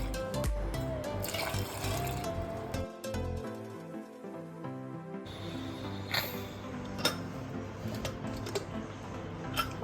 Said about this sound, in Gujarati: એમાં છે ને બે ગ્લાસ આપણે પાણી એડ કરશું